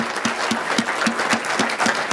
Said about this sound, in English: Everyone give another round of applause for these folks.